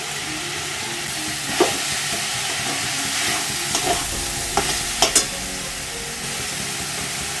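Ginger and cumin paste fries in a pan for a paneer and banana-flower ghonto, a steady close sizzle with a few sharp clinks and scrapes of stirring scattered through.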